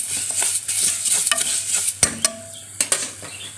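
Food frying in a generous mix of ghee and oil is stirred with a utensil, a steady sizzle underneath and several sharp scraping clacks against the pot in the later half.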